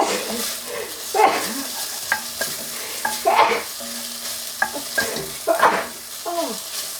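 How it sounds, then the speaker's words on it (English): Crushed garlic stirred in a pan for vegetarian chilli, a spatula scraping in repeated strokes with soft metallic taps over a light sizzle, close and clear, no talking. "then we'll give it a stir"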